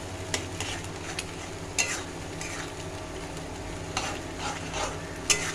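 Chili chicken masala sauce with soy and chili sauces is stirred in a pan, with a low bubbling sizzle beneath a few sharp scrapes and taps of a utensil against the metal, moderately quiet and close.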